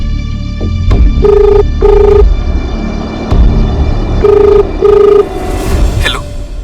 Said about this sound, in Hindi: एक बार मयूर को फोन कीजिए ना।